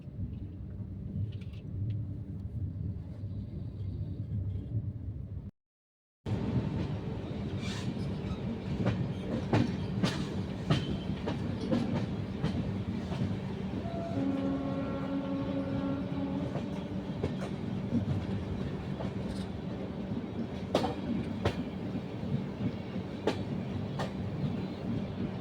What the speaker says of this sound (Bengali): এই যে আমাদের ট্রেন আজিমগঞ্জ স্টেশন থেকে এই মাত্র ছাড়লো